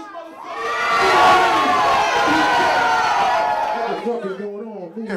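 A crowd at a live hip hop concert roars and cheers loudly for several seconds, with shouts and voices mixed in before the noise fades into scattered calls.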